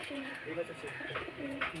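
Pigeons kept for sale coo softly in the background, faint low murmuring calls repeating under a person talking.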